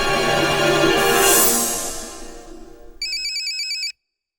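In a Hindi comedy film, a musical phone ringtone plays loudly for a few seconds, then a sharp electronic trilling ring pulses briefly before cutting off abruptly.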